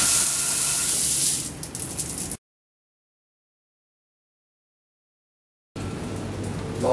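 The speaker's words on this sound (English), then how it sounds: "An outdoor shower." Water splashing steadily from an outdoor shower at a Bali cliff-edge villa, a broad hissing spray that cuts out abruptly to silence for several seconds and then resumes.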